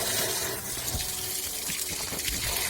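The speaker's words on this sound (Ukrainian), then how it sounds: "відкриваємо воду" Water from a garden hose gushes steadily into a car radiator while the engine cooling system is flushed, a close, continuous splashing flow with small gurgles and no talk.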